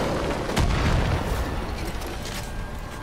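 Continuous roaring blasts and rumbling booms of bomb explosions in Far Cry 5, loud and dense, with heavy low-end thumps layered over one another.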